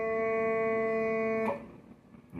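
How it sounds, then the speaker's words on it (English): A Scottish smallpipes middle tenor drone holds a steady, loud, buzzing reedy tone with a rich stack of harmonics for about a second and a half, then cuts off abruptly, leaving faint rustling handling noise. "I'm gonna open up my tenor reed, my middle tenor drone"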